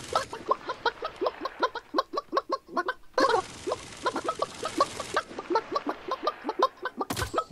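Chicken in the video game Realm Royale, a rapid string of sharp clucks in an even rhythm, loud and close, with brief gaps and a short burst of noise near the end.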